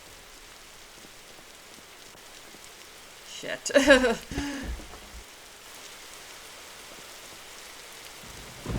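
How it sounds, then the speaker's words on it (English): Steady rain falls in the video game Nightmare Frames, a soft continuous hiss throughout, briefly interrupted midway by a short burst of voice. "I guess we're just gonna walk in the rain"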